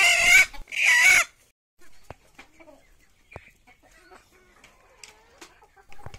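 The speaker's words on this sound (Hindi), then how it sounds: "मैंने चार मुर्गियों को पकड़ लिया है यहाँ दो मुर्गा है और दो मुर्गी है" Desi chickens and roosters being caught for weighing cluck and squawk in two loud bursts up close, followed by quieter scattered clucks, rustles and knocks.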